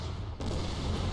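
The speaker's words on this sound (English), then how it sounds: "my cannons have decided to open fire" Cannons open fire in the Shogun 2 Fall of the Samurai strategy game, a sudden deep boom after a brief hush, followed by a rumbling low-heavy roll that sustains to the end.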